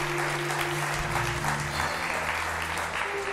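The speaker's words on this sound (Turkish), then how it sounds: "Onları alkışlarla uğurluyoruz." A television studio audience applauds steadily throughout, a dense even wash of clapping with faint music tones underneath.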